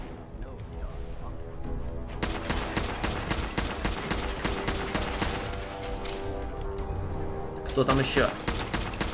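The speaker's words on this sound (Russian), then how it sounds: "Я жду следующего выстрела" Dense, rapid gunfire from Fallout 4's Nuka World, a fast volley of close shots that starts abruptly after two seconds and continues almost without pause, ending in a harsher burst, with a voice speaking briefly over it.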